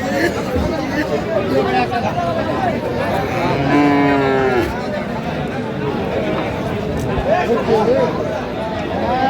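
Cattle moo loudly nearby, one long drawn-out low call standing out above a busy crowd of chattering voices at the Aftabganj livestock market selling Friesian and cross-breed bull calves.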